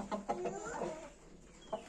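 Young roosters clucking in a farm setting, several short rising and falling clucks in quick succession, fairly close but soft, with a quieter cluck near the end.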